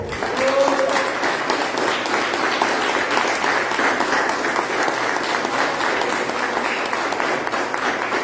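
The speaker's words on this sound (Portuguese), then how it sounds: "Dê um aplauso ao Senhor." A church congregation breaks into loud, sustained applause and clapping during a worship service, filling the room steadily with voices mixed into the crowd.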